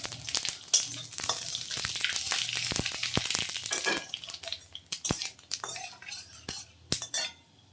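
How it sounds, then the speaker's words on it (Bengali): Whole cumin, white cumin and five-spice seeds sizzle and crackle in hot oil for a vegetable dal. A continuous frying hiss carries sharp seed pops and metal spoon clinks as the tempering is stirred, with no talking. "এখানে আমি গোটা জিরে সাদা জিরে আর পাঁচ ফোড়ন একসঙ্গে ফোড়ন দিয়ে দিলাম"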